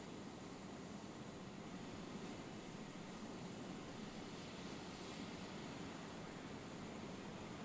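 A jet engine in a video game makes a steady, continuous broadband roar with a thin high whine on top, unchanging in loudness throughout.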